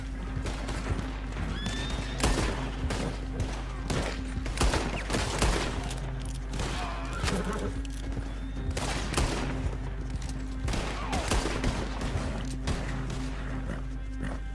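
Bursts of gunfire break out in a Red Dead Redemption 2 Online shootout, with horses whinnying and hooves clopping alongside, as repeated loud shots crack over a steady game soundtrack.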